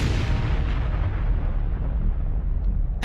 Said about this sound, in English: the shells heated up, and a powerful explosion occurred